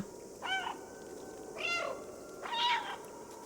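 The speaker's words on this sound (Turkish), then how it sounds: "Left alt ile miyavla." Three separate, clear meows from the cat in the video game Stray, each about a quarter second long and evenly spaced against a quiet, faintly hissing background.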